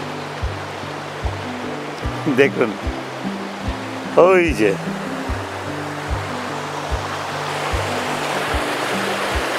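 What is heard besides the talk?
water falling at Mandaya Falls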